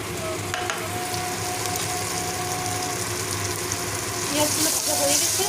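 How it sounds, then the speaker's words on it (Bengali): Onions sizzle steadily in hot oil in a pan, a continuous dense crackle that swells slightly louder near the end. "পেঁয়াজগুলো ভাজা হয়ে গেছে"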